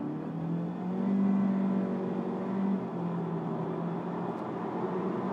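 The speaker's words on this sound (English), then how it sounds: "So we floored the car." A Honda Civic 1.5 VTEC Turbo S Design with a CVT accelerates at full throttle, a steady droning engine hum that swells slightly and then holds even, heard from inside the car with no talking.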